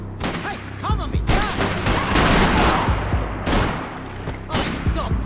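Bursts of gunfire crackle through a Max Payne 3 firefight on PC, dense overlapping shots and booms in rapid volleys with loud impacts, while voices shout briefly between the volleys.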